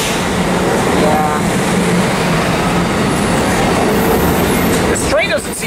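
An Amtrak train led by cab car 9208 rumbles steadily into the Santa Fe Depot, a loud continuous roar close by with faint rail clatter, and people speak briefly over it.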